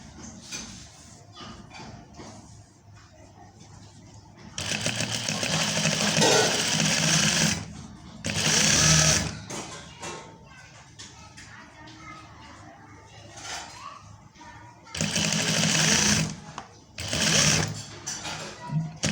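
Sewing machine stitching a fabric neckline, several bursts of fast rattling needle runs separated by pauses, close and fairly loud, with someone talking quietly between and over the stitching.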